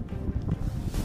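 Cold outdoor wind buffets the microphone during metal detecting at an old military camp site, a loud, steady low rumble with gusts and no speech.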